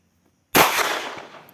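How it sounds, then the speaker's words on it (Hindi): A single sharp, close gunshot from a 9mm pistol fired left-handed, a loud crack followed by a quickly fading echo. "चलिए अब लेफ्ट हैंडेड फायर करते हैं, थोड़ा रैपिड करूँगा मैं"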